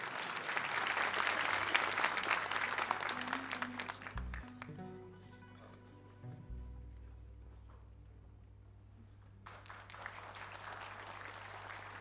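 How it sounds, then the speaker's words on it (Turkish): Concert audience applauds a Turkish folk song performance, broad clapping that fades out midway as instruments take over, then swells again near the end. "Alkışlarınızla."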